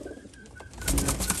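Pigeons in a loft, including a black Cheena hen, coo in low throaty calls that grow louder and denser toward the end, close by and with no speech.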